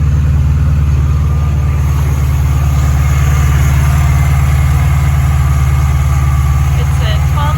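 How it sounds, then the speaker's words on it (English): A 1968 VW Beetle with a 1200 cc, 34 horsepower air-cooled engine idles close by, a loud steady low rumble throughout with a faint voice over it. "It's a 1200 cc, 34 horsepower, runs really good, has a lot of compression, a lot of good pep."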